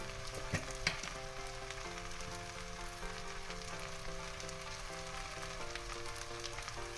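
Taro stolons (kochur loti), seasoned with salt and turmeric, fry in a pan while being stirred. A steady, fairly quiet sizzle runs throughout, with a faint tonal hum underneath and a couple of small clinks early on.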